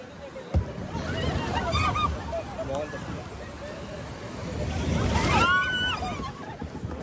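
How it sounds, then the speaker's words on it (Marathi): Strong sea waves surge and crash at Butterfly Beach on the Goa–Karnataka coast, a broad continuous roar that swells louder near the end, with faint distant voices. "तर मित्र आता लाटा रात जोराने यायची सुरुवात झाली."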